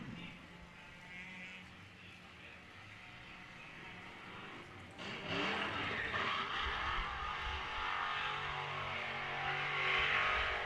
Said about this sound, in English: These rotary engines, they put out a pretty loud noise.